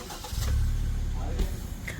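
A vehicle engine cranks and catches, settling into a low, steady rumble at close range while voices talk over it, during a fishing outing.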